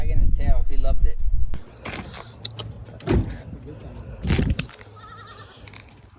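Timmy the goat gives a few wavering bleats up close, with other voices and car noise around him.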